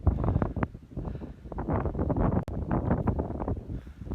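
Hilltop wind buffeting the microphone on a college campus, a loud, gusty rumble with continuous low roaring and irregular surges.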